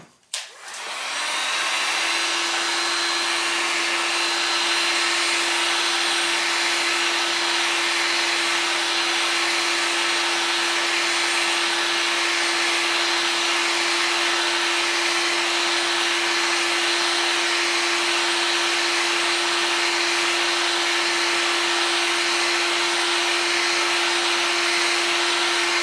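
Heat gun blowing a steady, continuous stream of hot air onto a mirror of a 1977 Camaro Z28, switching on with a short burst and then running evenly and fairly loud for the whole stretch.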